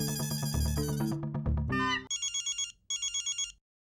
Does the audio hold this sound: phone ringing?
yes